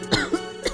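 Several short, raspy coughs come from a sick person inside a house, three quick bursts spread over less than a second.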